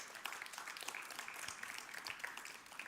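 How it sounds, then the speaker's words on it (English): Audience applause for startup pitches at a startup festival pitch competition, a steady wash of many hands clapping together, fairly faint and distant, continuing throughout. "Let's give a big applause for all of the startups who pitched."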